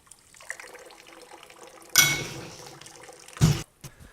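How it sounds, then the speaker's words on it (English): A quarter cup of water poured into a tomato slurry in a home kitchen, two short splashing pours, the second brief and heavier, with quiet clinks and handling sounds between. "we're gonna add our 1/4 cup of water"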